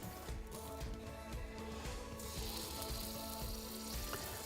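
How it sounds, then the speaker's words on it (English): Pieces of buttermilk chicken, oiled skin side up, sizzle faintly and steadily on a hot surface in a wood-fired oven, a soft continuous crackle and hiss with no talking. "Little bit of sizzle"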